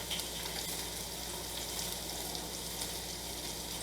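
Carrots and asparagus roasting in olive oil hiss steadily in a pan as broccoli goes in, a dense, even sizzle that holds at the same level throughout with no pauses.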